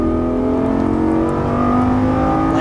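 A Lamborghini Gallardo LP550-2 pulls hard on a racetrack, its engine a loud, sustained onboard drone rising steadily in pitch as it accelerates, with no talking.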